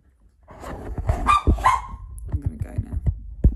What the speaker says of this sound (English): Are you winding your doggy up?